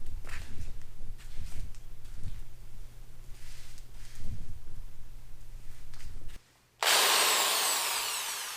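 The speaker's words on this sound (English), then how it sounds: "We're going to hit it with a wire wheel" A wire wheel on a power tool scrubs rust from a go-kart frame, a steady grinding buzz with rough scraping surges that runs for over six seconds, cuts out briefly, then returns as a loud bright whine.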